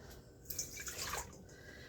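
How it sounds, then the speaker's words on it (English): A short splash of warm water poured from close by for bread dough, lasting under a second against a quiet background. "then you're going to add your warm water"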